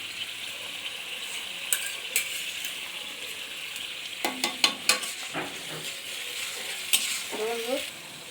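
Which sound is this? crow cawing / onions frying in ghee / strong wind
onions frying in ghee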